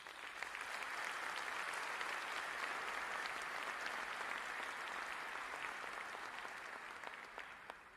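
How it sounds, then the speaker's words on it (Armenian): Audience applause at a concert, a dense steady clapping from a full hall that runs for about eight seconds and tapers slightly at the end. "Եվ մենք ալ գուզենք բոլորնից մեկ ծափահարությամբ շնորհակալություն հայտնել"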